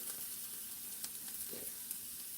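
A soft sizzle of food sauteing in a pan holds steady and faint throughout, with a few light ticks and one small scrape, and no voices.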